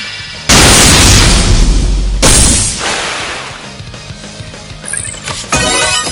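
A multiple beam launcher attack in MegaDimension Neptunia VIIR, with two loud booming explosions about two seconds apart that roll off into a rumbling tail, then a brief rising zip and a final crackling burst.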